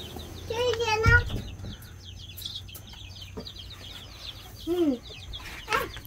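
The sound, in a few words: chickens clucking in a pen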